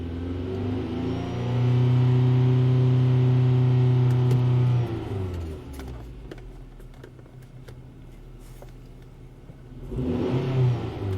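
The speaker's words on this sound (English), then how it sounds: "So I'm increasing the engine RPMs." A 2008 Mazda 3 engine climbs to a higher idle, holding a steady loud drone for several seconds before settling back down, then rising briefly again near the end.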